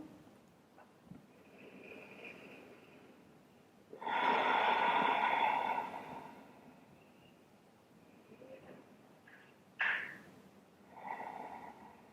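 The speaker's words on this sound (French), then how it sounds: "Faites encore 2 respirations ici." Slow deep breaths during a stress-relief yoga therapy session, a long audible exhale then quieter inhales and breaths, close and soft, with no talk.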